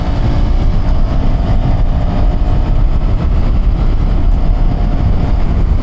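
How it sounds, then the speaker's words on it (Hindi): A KTM Duke 390 motorcycle with a bi-directional quickshifter and slipper clutch roars continuously while being ridden, a loud steady engine drone with wind rush and no clear break between gears. "और बाय डायरेक्शनल क्विक शिफ्टर मिलता है, स्लीपर एंड असिस्ट क्लच है। तो ये शिफ्टिंग देखो"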